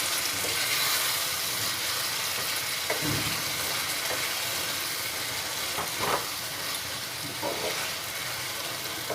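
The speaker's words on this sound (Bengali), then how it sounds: "বাদামের পেস্ট দিয়ে ভালো করে আমি নাড়িয়ে নেব, ঝিঙ্গের সাথে মিশিয়ে নেব।" Ridged gourd and peanut paste sizzle steadily in a frying pan while a spoon stirs, giving a few soft scraping strokes over the continuous frying hiss.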